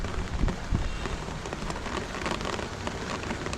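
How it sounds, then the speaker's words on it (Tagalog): Rain falling on a sloped roof, a dense, steady patter of drops at moderate loudness, with a few heavier thuds early on and no voices. "Abutan tayo ng ulan."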